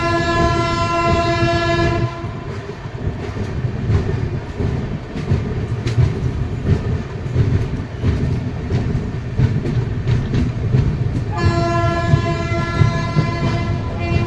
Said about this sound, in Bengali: খুব সুন্দর একটা সকালে ট্রেন সাঁতরাগাছি জংশন ছেড়ে বেরিয়ে যাচ্ছে